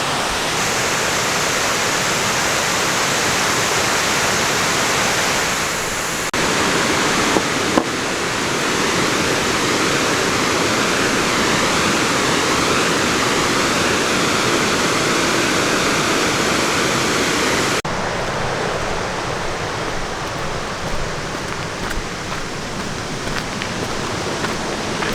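A waterfall pours with a steady, loud, broadband roar along a rocky trail, continuous and unbroken throughout, with no talking.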